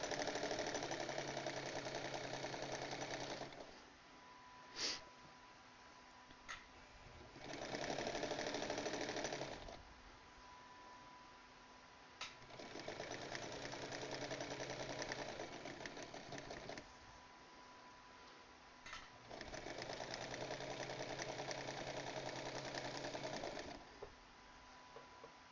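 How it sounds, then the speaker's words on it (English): Sewing machine stitching a line, with four rhythmic bursts of close mechanical whirring separated by quieter pauses and a few clicks, all at low volume. "we're sewing a line, and we're gonna go with it"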